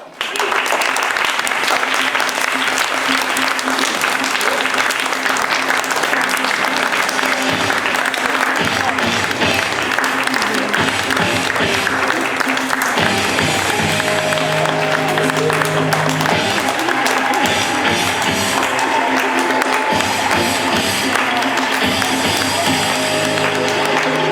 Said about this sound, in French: Sous un tonnerre d'applaudissements, Madame Léo.